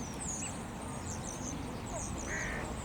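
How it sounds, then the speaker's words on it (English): Geese and swans call by the water in a park, with repeated honking and quacking sounds near and far over a steady outdoor background. "Birds bathing, grass grazing, geese and swans."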